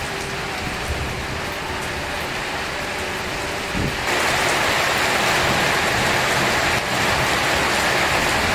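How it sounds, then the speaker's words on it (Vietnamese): Steady rain of the first downpours of the season over a countryside garden, a dense hiss that swells noticeably louder midway and keeps pouring without pause. "những cái cơn mưa đầu mùa thì bắt đầu xuất hiện"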